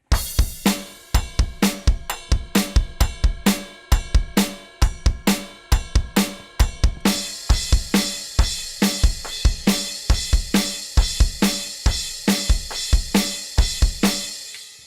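A rock drum kit plays a groove from a song: a ride cymbal bell on quarter notes over a snare backbeat with extra kick drum hits. The pattern is loud, close and steady, and cymbals wash brighter in the second half.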